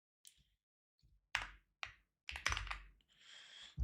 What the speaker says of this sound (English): I'm typing something up.